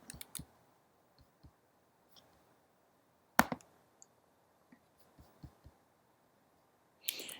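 A computer mouse clicks sparsely while logging out of a website: a few sharp, quiet clicks scattered irregularly, with one louder click midway and near silence between.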